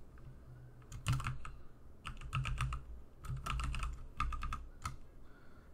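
Bursts of typing on a computer keyboard in a Linux terminal, quick clusters of key clicks separated by short pauses, close and fairly quiet with no voices.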